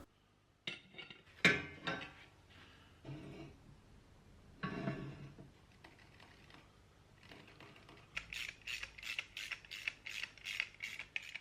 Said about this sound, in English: I'm just going to make a couple of brackets and then just bolt it on